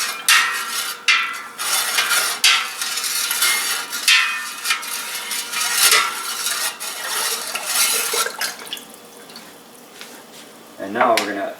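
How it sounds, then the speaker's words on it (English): Tea is stirred into a banana wine mixture in a pot, with close, repeated scraping and clinking of a utensil against the pot in uneven strokes, ending with a short voice. "Okay, now I'm going to add the cup of tea. Stir that up a little bit."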